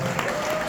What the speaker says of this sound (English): give a round of applause to all of our legends that are here